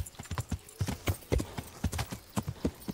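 Horse hooves clip-clopping in Kingdom Come: Deliverance, a brisk, uneven series of hoof strikes on a deep woodland path, close and prominent with no talking over them.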